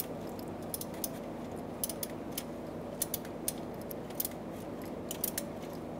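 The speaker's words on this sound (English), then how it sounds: "Just take the nut with the socket and just get that to line up on the stud and tighten it down." A socket ratchet clicks in short bursts of quick pawl ticks, up close and fairly faint, while a starter nut is tightened on a stud on a 1998–2010 Volkswagen Beetle; a low steady hum continues in the background.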